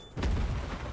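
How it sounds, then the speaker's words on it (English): A grenade goes off in Starship Troopers: Extermination, a sudden loud boom that rolls into a rumbling, crackling blast lasting about a second. "I threw a grenade."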